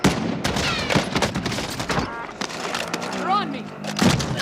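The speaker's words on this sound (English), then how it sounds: "I'm taking fire here." Bursts of video game gunfire crackle almost without a break during a tactical shooter match, with rapid reports layered over radio chatter and players talking.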